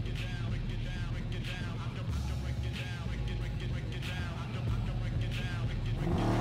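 A car in the Watch Dogs video game pulls away, its engine revving and rising in pitch with a faint tire squeal, heard close under game noise and a man's speech.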